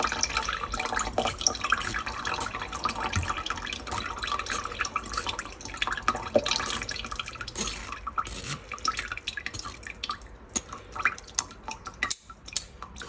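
Lemon juice and pulp dripping and trickling out, a faint, irregular patter of drops and small splashes heard close up with no talking.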